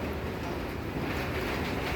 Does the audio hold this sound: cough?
no